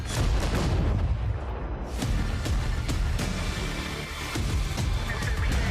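Heavy artillery bombardment rumbles through a video game trailer, dense repeated booms and thuds layered into a loud, continuous wall of battlefield noise.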